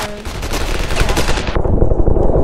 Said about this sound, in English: Oh, I'm getting shot at and I'm dead.